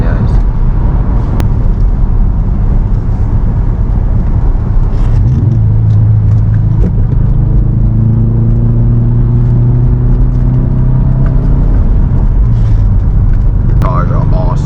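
A 2018 Subaru WRX STI engine revs while driving, a constant loud cabin rumble that rises and swells in pitch midway, with voices talking over it.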